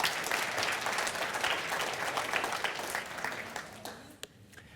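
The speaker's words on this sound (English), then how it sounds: "Give these guys a round of applause" An audience at the Synergy 2016 event gives a round of applause, a steady wash of many hands clapping that continues evenly before thinning out near the end.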